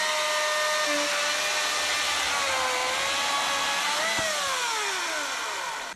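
A loud, continuous high-pitched whine of a Husqvarna 240i cordless chainsaw running close up, its pitch dipping and shifting as it bites into a log.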